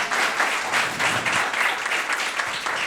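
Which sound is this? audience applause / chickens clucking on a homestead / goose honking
audience applause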